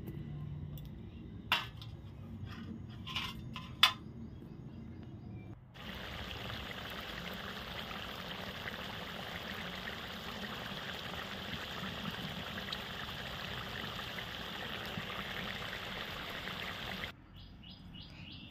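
Chicken curry simmers in a pot in a home kitchen, a steady soft bubbling hiss that starts a few seconds in and runs evenly before cutting off, with faint bird chirps outside at the start.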